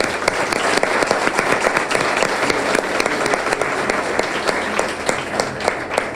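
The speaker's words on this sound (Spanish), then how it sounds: "Vamos a darle un aplauso a la senadora" Sustained audience applause for a female senator at a forum on gender-perspective telecommunications, dense steady clapping from a crowd filling the room without pause throughout.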